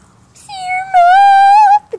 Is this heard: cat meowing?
yes